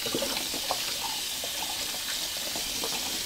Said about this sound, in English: Should only take a second to rinse it out because it is a synthetic.